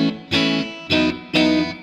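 An electric guitar plays a clean, completely dry tone through a Mesa Boogie Fillmore amp with no reverb. Three sustained strummed chords ring out loud and close, one after another, with no voice.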